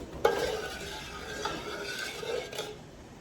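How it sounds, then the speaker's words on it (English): Milk and salt being stirred in a pot on the stove, giving soft scraping swishes with a few light clinks against the metal, close and fairly quiet with no one talking. "we're gonna stir it occasionally just to make sure it doesn't stick to the bottom"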